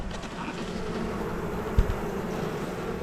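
Honeybees hum at an open hive during a frame inspection, a steady low drone close by, broken once by a brief knock near the middle.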